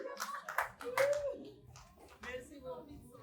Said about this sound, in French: on va acclamer pour la volontaire